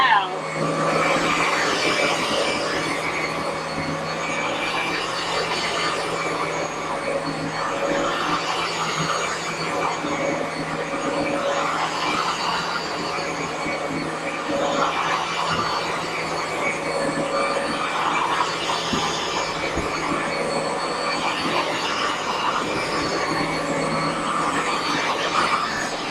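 Hoover Dual Power carpet washer running steadily with a loud nozzle, a constant whining drone with tonal hum that stays close and even throughout, with no break.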